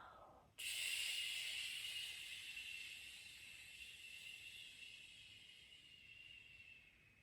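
A long, steady breath exhaled during a guided breathing exercise, starting abruptly and trailing off slowly as a soft, airy hiss that stays close and alone, with no voices.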